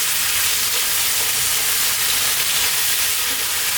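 Tomatoes and lamb frying over high heat in a hot pan while being stirred, a steady close sizzle and hiss that continues without a break.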